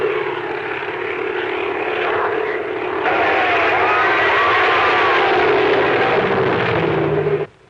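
A propeller airplane drones loudly overhead, its engine a steady, close roar that swells around the middle and cuts off abruptly at the end.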